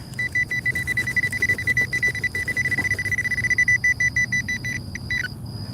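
Metal detector sweeping for coins at night, giving a steady high electronic tone over low rumbling ground noise and scraping, cutting out near the end.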